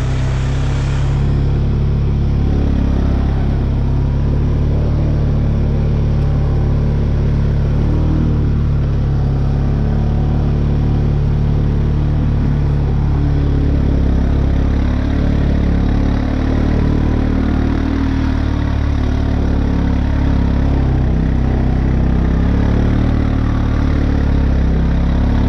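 Honda Rancher 420 ATV crawling slowly in first gear through mud, its engine holding a steady low drone with small rises and dips in revs, loud and close throughout with no talking.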